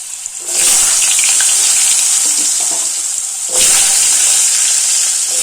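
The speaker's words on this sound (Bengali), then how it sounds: "এই আলুটা তেলে দিয়ে দিচ্ছি" Diced potatoes go into hot oil with a loud, hissing sizzle that surges up sharply, then flares again a few seconds later as they settle and fry.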